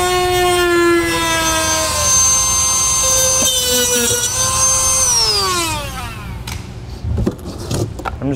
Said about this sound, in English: I'm going to use a tool with a cutting blade on it